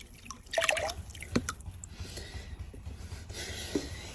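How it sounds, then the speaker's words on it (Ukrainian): Fertilizer solution is poured into a ready container, heard as a few close liquid splashes and drips early on, followed by quiet trickling and faint clinks against a low background hum. "ми його додаємо безпосередньо вже в нашу готову тару"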